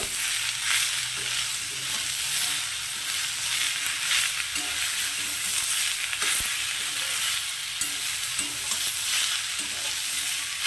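Drumstick stalk curry being stir-fried with salt in a pan: a steady sizzle with repeated scraping and stirring strokes from a spatula, close and fairly soft, with no voices.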